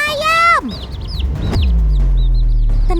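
A mother hen clucks in short bursts near the start, followed by scattered chirping and a sustained low hum, with a voice speaking over parts of it.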